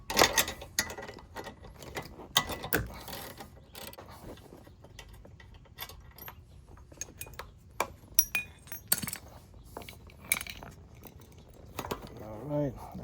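Metallic clinks, ratchet clicks and scraping ring out irregularly and close as a bolt is removed inside a Honda Element camper, with sparse sharp hits among quieter handling noise.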